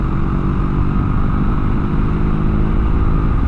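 Kove 450 Rally street-legal adventure motorcycle engine running at a steady, loud drone while riding, with heavy wind rush blended throughout and no speech.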